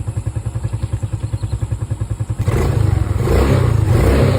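A motorcycle engine idles with a steady, pulsing putter, then revs up loudly and holds a high, rough roar.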